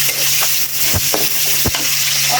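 Onion and garlic hit hot oil with whole cumin seeds, a loud close sizzle broken by a few quick scraping stirs of a utensil.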